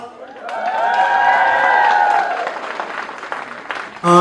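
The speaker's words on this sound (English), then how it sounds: "can you give the round big applause?" Concert audience applauding at a live Nepali and Tibetan music show in New York City, a steady wash of clapping with a sustained tonal instrument or voice ringing over it before it fades and a louder burst arrives at the end.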